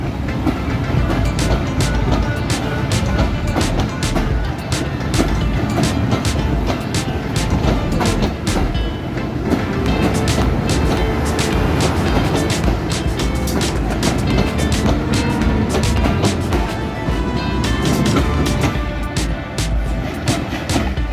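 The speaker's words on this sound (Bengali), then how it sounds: "এই ট্রেনটি উল্লাপাড়া রেলওয়ে স্টেশনের এক নম্বর লাইন থেকে এই মুহূর্তে ছেড়ে যাচ্ছে ঢাকা অভিমুখে" The Dhaka-bound Dhaka Mail passenger train, hauled by a 6500-series locomotive, pulls away from line one at Ullapara railway station in Bangladesh with a loud, continuous rumble and rhythmic clatter of wheels on rails, close by throughout.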